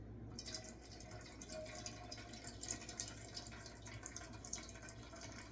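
Grease from cooked regular hamburger meat is poured off through a squeezed corner of a container, giving a soft, steady trickle with faint drips, heard alone.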